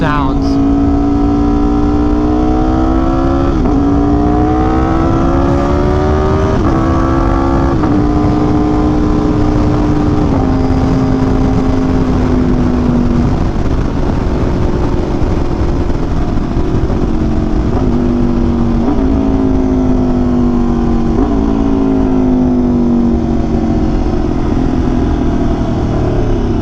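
A troubled motorcycle engine cranks and runs, revving up and down in wavering, uneven pitch sweeps, loud and close throughout the half-minute.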